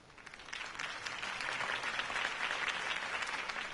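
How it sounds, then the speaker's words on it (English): Crowd applause at Harvey Dent's political campaign rally in a video game: a dense, even wash of many hands clapping, growing slightly and staying full throughout. "If only Mr. Wayne, my campaign's largest backer, could have heard that applause"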